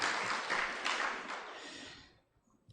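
An audience at a medical association doctors' conference claps together in a dense burst of applause that fades out over about two seconds.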